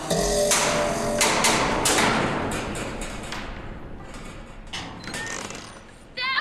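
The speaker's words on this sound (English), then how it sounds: "Now we have to go up to the front door and go knock, knock, knock" Knocking on the front door of a cabin in the Back to the Future video game, a series of loud wooden thumps and taps in a rhythmic burst, followed by fading softer knocks.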